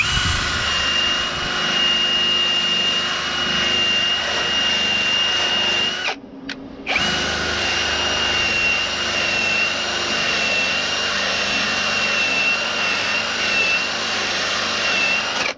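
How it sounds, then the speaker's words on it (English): Loud, continuous high-pitched whirring of a wire brush spinning on a drill against a 1982 Ford Fox-body car's core support, cutting out briefly midway before resuming steadily. "When using a wire brush like this on a drill, be careful of all the little pieces."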